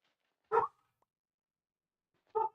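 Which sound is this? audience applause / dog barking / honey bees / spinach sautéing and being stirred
dog barking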